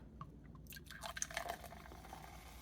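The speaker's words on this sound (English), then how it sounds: "let's give this root beer a pour." A short, bubbly pour of root beer into a glass, with fizzy splashing and a rising trickle, close and fairly quiet.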